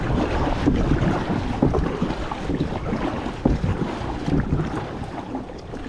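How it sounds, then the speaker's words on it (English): Oldtown Sportsman 106, a short 10'6" kayak, paddled on open water, with dense wind rumble on the microphone masking soft splashing strokes, close and continuous. "let's go paddle this kayak around and see what the tracking is like"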